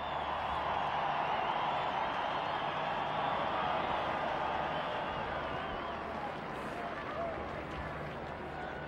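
A sellout stadium crowd at a 1996 Notre Dame football home game against Rutgers roars steadily and loudly as the Notre Dame seniors are introduced, a dense continuous wash of cheering with no break.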